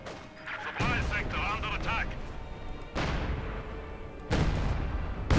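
Su-76 artillery barrage in the Company of Heroes 2 video game: three heavy, booming shell impacts land a second or more apart, each with a rumbling tail, while a voice talks over the first part.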